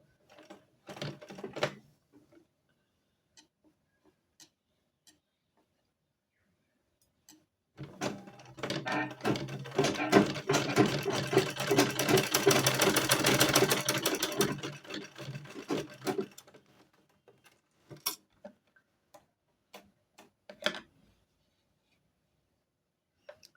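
A sewing machine stitches a baby frock in one steady, rapid mechanical run lasting several seconds, framed by scattered handling clicks and quiet pauses.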